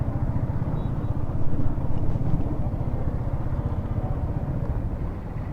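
A motorcycle on a long bike trip idles as it parks outside a roadside hotel in Balugaon, Odisha, with a steady, rumbling low engine throb held close and even throughout.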